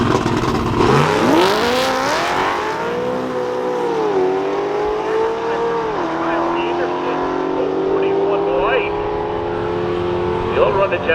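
A drag racing car accelerating down a quarter-mile strip, engine note climbing through several gear shifts in a loud rising roar that fades as it pulls away, with an announcer talking over it.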